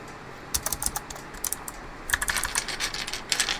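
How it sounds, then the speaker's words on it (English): Clicky mechanical keyboard switches are typed on in quick, uneven bursts of sharp clicks and clacks, heard close up with no speech. "they are a clicky switch, as you can definitely, I'm sure you can definitely hear."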